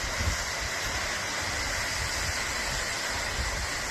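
The Ilısu waterfall in Aksaray pours with a steady, broad, close rushing roar that stays constant and unbroken throughout.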